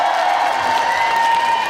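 Outdoor festival concert crowd at the Daegaya Festival applauding and cheering in a dense, steady roar, with a faint sustained tone running underneath.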